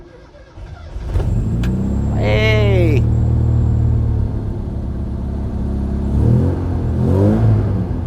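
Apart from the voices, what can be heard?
classic Mini Cooper engine starting with new exhaust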